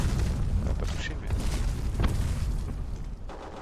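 Grenade explosion in an online multiplayer shooter game, a rumbling boom with debris-like crackle heard under ongoing players' chatter.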